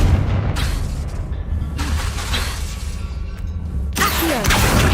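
Confringo blasting spell in Hogwarts Legacy: a loud booming burst over a dense rumbling game soundscape, with swelling whooshes and a crash near the end, no talking.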